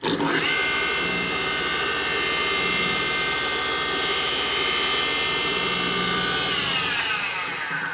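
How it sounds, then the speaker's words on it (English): A grinding stone cutting heavily into a 1979 Harley shovelhead 80ci motor part, the stone loading up as it works: a loud, continuous high-pitched whine with a harsh gritty edge, steady and close throughout. "Then I go ahead and grind it out. Now the stone's starting to load up in here, it's cutting kind of heavy."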